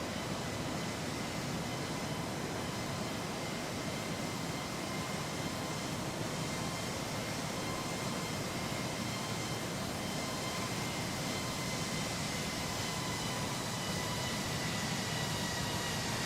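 An airplane flies past in the X-Plane 12 flight simulator game, a loud, steady broadband engine roar that holds evenly throughout with no speech over it.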